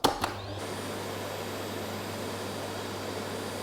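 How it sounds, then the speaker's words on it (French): A 700-watt household vacuum cleaner, powered from an Oukitel P2001E battery station, starts with a couple of clunks and then runs as a steady, loud, even whoosh with no talking. "j'ai utilisé l'aspirateur de la maison"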